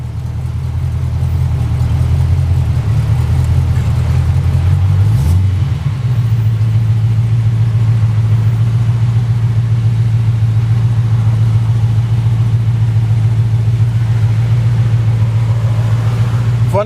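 Low, constant engine drone of a 1929 Ford Model A roadster pickup on low-pressure tires, heard from inside while driving, with a brief shift in pitch early on, then an even, steady rumble.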